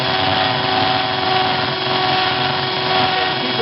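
A power drill bores through a glass bottle with a steady, loud, continuous whine and grinding hum, holding level throughout without pauses or speech.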